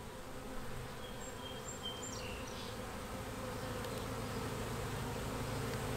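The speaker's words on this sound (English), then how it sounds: "I'm glad that I can at least catch the swarm and build another colony." A honeybee swarm produces a steady, continuous buzz of many insects that fills the scene at a moderate level, with no talking.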